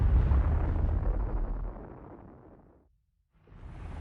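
A hydrogen bomb explosion, equal to about 10 million tons of TNT, thunders as a loud, deep roaring rumble that fades into near silence for a moment before a rushing blast returns.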